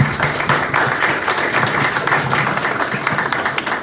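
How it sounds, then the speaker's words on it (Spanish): An audience at an academic tribute gathering applauds a speaker, a dense, continuous patter of many hands clapping at an even level for several seconds. "Un aplauso para nuestro compañero Cali Suazo."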